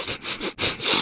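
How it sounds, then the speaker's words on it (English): Rhythmic sniffing for a laundry detergent advert, with several quick, close nasal inhales in a short solo burst. "And now a sniff solo."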